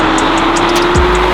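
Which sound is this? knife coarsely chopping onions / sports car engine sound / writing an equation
sports car engine sound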